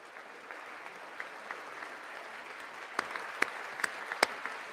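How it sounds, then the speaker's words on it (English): Audience clapping at the State of the Union address, a steady soft wash of applause from a large chamber crowd heard at a distance, with a few sharper, nearer claps toward the end. "Who are we fucking clapping for?"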